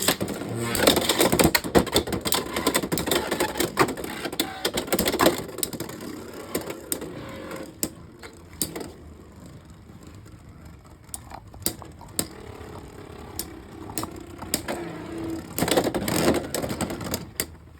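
Spinning-top toys launched into a stadium and battling, with dense rapid clattering and sharp plastic clacks that ease off in the middle and build again near the end.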